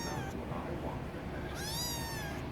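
A small kitten gives a couple of thin, high, drawn-out meows against a steady background hiss, fairly close but not loud.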